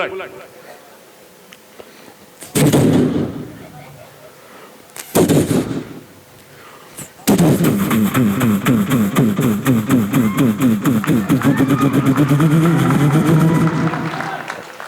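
A voice imitates an old kick-start Bullet motorcycle: two short loud bursts like kicks, then a long rapid rhythmic thumping engine putter, delivered loudly over a crowd at a comedy show.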